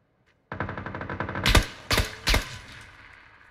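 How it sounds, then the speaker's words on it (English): Several bursts of video game gunfire: a rapid rattling volley followed by three loud, sharp shots at uneven intervals, close and without talk. "It's still shooting at you."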